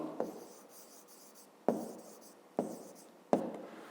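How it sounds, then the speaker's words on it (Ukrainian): Numbers are written by hand in short scratchy pen strokes, four distinct bursts of writing separated by brief pauses, close and quiet in a still room. "Ну, а тепер записуємо числа."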